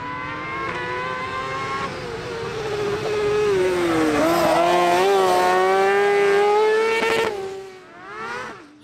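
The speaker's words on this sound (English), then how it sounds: "And fastest time over the opener goes to the Class 14 750cc speed car of Johnny Stinson." A Class 14 750cc speed car racing at the Nutts Corner circuit in a summer race series, its engine held loud and close with rising and falling revs that swoop up and down before fading away near the end.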